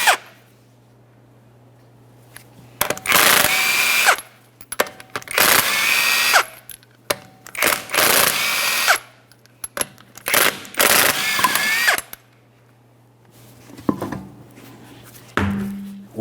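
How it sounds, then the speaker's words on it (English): A power tool spins off the five 21mm lug nuts on a 2011-2020 Toyota Sienna front wheel in a series of loud, close bursts of whirring and rattling, with quiet gaps and small metallic clinks between them. "To remove the wheel, we'll remove all 5 of our 21mm lug nuts."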